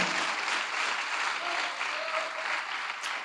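Church congregation applauding at a Spanish-language service, a dense, steady burst of clapping from many hands throughout, fairly close and with no talk over it.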